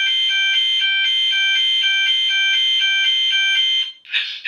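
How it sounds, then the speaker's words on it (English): A loud, steady electronic fire alarm tone from a Gent Mk2 system pulses rapidly for several seconds, then cuts off into a brief burst of noise. "This is a fire alarm."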